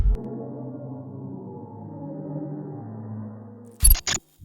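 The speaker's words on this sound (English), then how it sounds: "This is the sound of a supermassive black hole." A sonified recording of a supermassive black hole produces a low, droning, wavering hum that holds steady, then ends with a few abrupt bright bursts.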